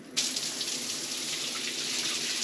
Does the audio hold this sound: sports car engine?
no